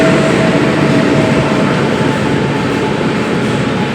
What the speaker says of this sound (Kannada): already train ಬಂದಾಯಿತು guys